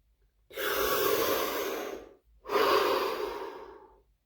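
Two long, deep breaths close to the mic: a loud inhale of about a second and a half, a brief pause, then a second breath that tails off softly, alone with no talk.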